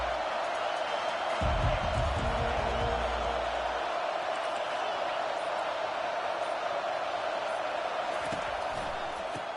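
Steady roar of a stadium crowd cheering at an NCAA college football game, continuous and loud throughout with a few louder thumps near the start.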